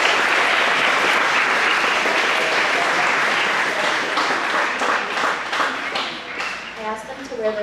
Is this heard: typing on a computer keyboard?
no